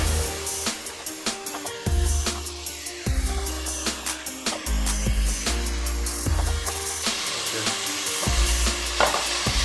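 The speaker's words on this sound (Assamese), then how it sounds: "তেতিয়ালৈকে লৰাব লাগিব যেতিয়ালৈকে অকমান গোটা হৈ পেনে কেৰাহীৰ পৰা এৰাই নাহে" Kalakand mixture of paneer and mawa is stirred in a wok with repeated scraping strokes against the metal, over a steady sizzle of frying, close and alone.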